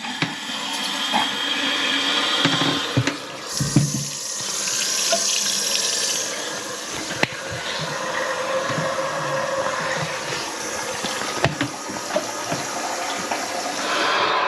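Water flows steadily into a refilling toilet cistern after the supply is turned back on, a continuous close rushing hiss with a few small knocks, no voices.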